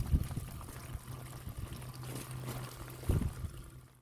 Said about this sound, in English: there's a lot of water coming off there now